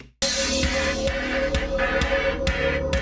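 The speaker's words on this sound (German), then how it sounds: "Das klingt so ein bisschen sehr, sehr mit so einem hellen Rauschen versehen." An album, original and remaster played together, a loud pulsing rock track with a steady beat and a thin, bright hiss running across the whole mix.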